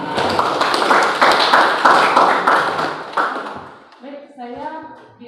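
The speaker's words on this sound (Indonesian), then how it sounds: "Tepuk tangan untuk Wahyu." Classmates clap for a student at the end of a chemical engineering lesson, a brisk burst of hand claps lasting a few seconds before a teacher's voice takes over.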